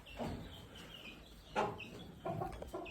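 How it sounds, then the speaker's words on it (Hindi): Near a cattle shed, birds raise a sudden alarm outcry as a cat arrives, with repeated squawking, clucking calls in short bursts at moderate distance over a steady background hum. "भाई बिल्ली आ चुकी है, चिड़ियों ने चिल्लाना स्टार्ट कर दिया है"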